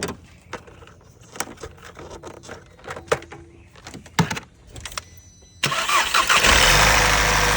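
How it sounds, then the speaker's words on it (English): Volkswagen GTI engine cranks and starts after an electrical repair, with scattered clicks and clunks from inside the car beforehand, then a loud, steady idle rising up close. "hop in there and start the car"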